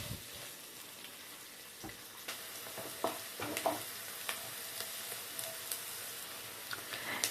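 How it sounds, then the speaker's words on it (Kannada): Onions frying in a pan, a quiet close sizzle with repeated sharp clicks and scrapes from stirring, fairly soft and without voices. "ಈರುಳ್ಳಿ ಹಸಿ ವಾಸನೆ ಹೋಗಿ ಕಂದು ಬಣ್ಣ ತಿರುಗೋವರೆಗೂ ಫ್ರೈ ಮಾಡ್ಕೊಳ್ಳೋಣ."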